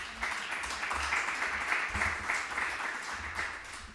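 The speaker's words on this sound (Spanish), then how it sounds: "Un aplauso para ella." Applause from an audience at a Spanish-language book presentation, broad steady clapping at moderate level lasting throughout, with a faint low hum underneath.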